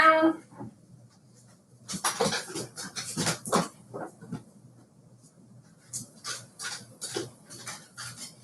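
Pet dogs coming in out of a sudden downpour, a few soft whimpers followed by scattered clicks, scuffs and knocks of paws and movement indoors, fairly close and quiet with pauses between.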